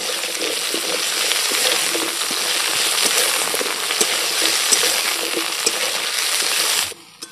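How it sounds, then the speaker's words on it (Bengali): Potato and taro pieces fry in hot oil with a dense, loud, bubbling crackle and a few light stirring taps, ending suddenly after about seven seconds. "তেলটা গরম হয়ে গেছে, আলুটা আমি দিয়ে দিলাম। তারপর গাঁটি কচুটাও সঙ্গে ভেজে আনলাম আলুর সঙ্গে।"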